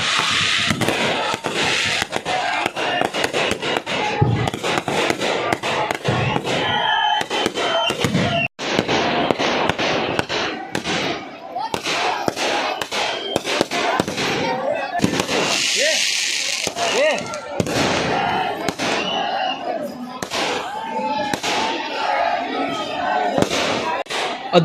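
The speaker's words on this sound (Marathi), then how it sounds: "रात्रीची फटाक्याची आतिषबाजी तुम्ही पाहतात" Night fireworks at Bhim Janmabhoomi in Mhow, near Indore: a loud, continuous run of crackling bursts and thuds over a cheering crowd, with people talking and shouting throughout.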